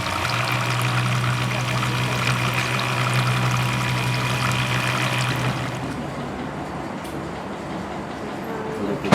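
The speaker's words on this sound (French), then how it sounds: "on mélange les 3 huiles. L'huile de noix de coco, l'huile de palme et l'huile de sésame." Coconut, palm and sesame oils are mixed together, giving a soft continuous pouring and stirring swish with a trickling quality, overlaid by a steady mechanical hum that drops away near the end.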